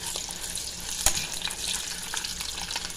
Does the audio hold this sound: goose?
no